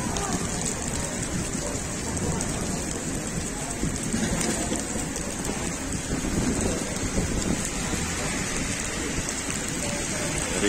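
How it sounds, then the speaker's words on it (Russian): Rain falls steadily outdoors in a thunderstorm after nearby lightning, a dense, even hiss of drops on surfaces with low rumbling underneath, continuous for the whole stretch. "небольшой дождь."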